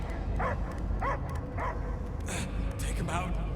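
A dog in Marvel's Guardians of the Galaxy gives a run of short barks and yips at a steady pace, with a voice talking over them.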